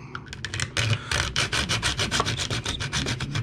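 Hand cutting while modifying a WYZE Cam to extend its Wi-Fi range: quick, steady rasping strokes, close and fairly loud, repeating through the whole stretch with no talking.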